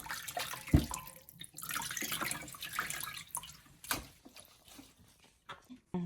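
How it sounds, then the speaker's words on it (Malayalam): Running water splashes as raw mutton is rinsed by hand to wash off blood, fairly quiet, with a few louder knocks and a voice speaking in between. "ഇതിൻ്റെ ബ്ലഡെല്ലാം കളഞ്ഞ് കഴുകിയെടുക്കാം"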